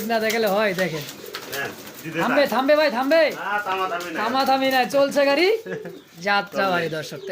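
Racing pigeons (Danish satinette, Bombay and similar breeds) coo close by, but a voice speaks over them throughout and dominates, leaving the birds partly masked.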